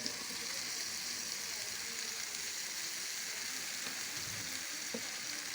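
Mixed vegetables hit a hot pan and sizzle loudly and continuously, a dense hiss with occasional stirring clatter and no speech.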